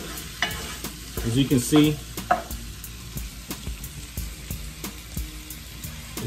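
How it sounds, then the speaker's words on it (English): A vegan curry in a pan is stirred with steady scraping strokes over a soft continuous sizzle, close by, while a person briefly talks. "So you want to give this a nice stir. Let it get a nice little cook on it."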